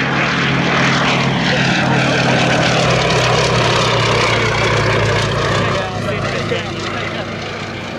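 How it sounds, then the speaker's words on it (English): A Westland Lysander, a propeller aircraft, flies past at an airshow under moody skies, its steady engine drone loud and sustained before easing slightly toward the end. "as the Lysander continues its flight past in rather moody conditions"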